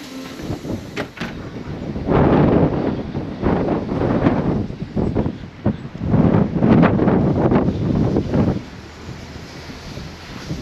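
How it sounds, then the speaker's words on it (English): Wind buffeting the microphone in loud, gusty rumbles that rise and fall, with no one speaking. "Bit windy out here today."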